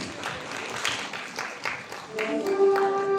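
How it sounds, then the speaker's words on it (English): An audience applauds a woman returning to the stage at the 2024 Philippines WEPs Awards ceremony, a moderate spread of clapping that rises and falls, with a steady tone entering near the end. "a big round of applause for her, please."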